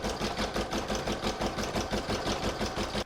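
An embroidery sewing machine runs a stippling stitch on a crazy-patch bag panel in the hoop, a steady rapid mechanical whir with regular pulsing, close and continuous, no talking.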